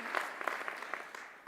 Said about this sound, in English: I think we should all just do a round of applause for how amazing we all come together and support each other